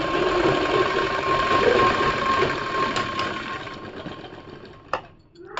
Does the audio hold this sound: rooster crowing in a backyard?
no